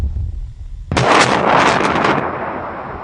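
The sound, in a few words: explosion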